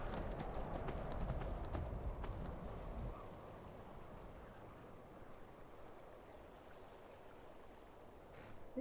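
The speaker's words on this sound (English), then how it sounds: "They're quite good at galloping, you know. They're a good horse." Rhythmic hoofbeats of a galloping horse in the video game Skyrim, loud at first and then settling into a steady, softer clip-clop over a constant rushing background.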